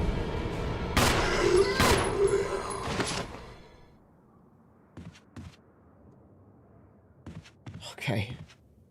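Gunfire in the Resident Evil HD video game: a cluster of loud shots in quick succession, followed by fainter thuds and a final burst, with a quiet voice speaking between them.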